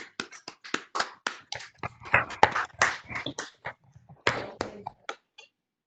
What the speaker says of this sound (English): So a round of applause for the parents.